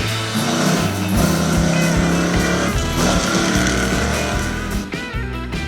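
A self-propelled camper trailer with a powerful engine revving loudly, up close, its pitch stepping up and down in bursts over a steady rumble, with a brief dip near the end.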